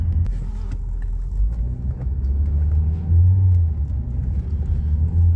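A Ford Focus with a DPS6 dual-clutch transmission drives along, its engine producing a steady low rumble that swells briefly as it pulls through a gear change, heard from inside the car with no talking.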